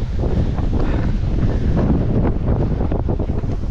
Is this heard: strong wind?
yes